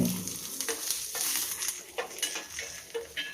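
Dried red chillies and curry leaves sizzling in hot oil for an ash gourd buttermilk curry tempering, a steady close crackle with sharp spluttering pops and light utensil clicks, no voices.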